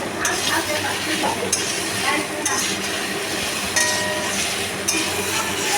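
Spice paste with tomato being sautéed in a pan for a vegetarian elephant foot yam curry, a dense continuous sizzle with repeated clinks and scrapes of a spoon against the pan.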